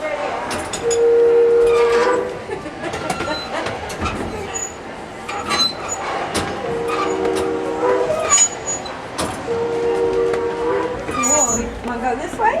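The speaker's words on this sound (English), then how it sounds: "Here, blow the whistle." Whistle on a Baldwin Locomotive Works 60000 steam locomotive at a museum gives three steady tonal blasts over a crowded, echoing hall, with people talking and moving around throughout.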